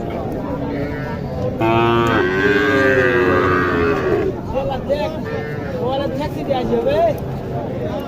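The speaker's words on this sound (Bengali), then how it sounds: "এখানে একটি ষাঁড় বাছুর দেখায়, একেবারে ছোট" A young bull calf about three to four months old lets out one long, wavering bawl at a cattle market, with people talking around it before and after the call.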